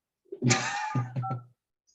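A short burst of telephone dialing tones, about a second long, sounds close and fairly loud, with a few stepped tonal changes before it stops.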